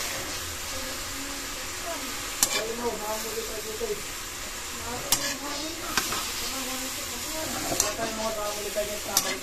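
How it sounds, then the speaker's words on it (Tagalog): Bean sprouts and tofu sizzle steadily in an electric pan while a spatula stirs them, with sharp scrapes and clacks every few seconds over the constant frying hiss and a voice speaking now and then. "Atin naman po nga haluin."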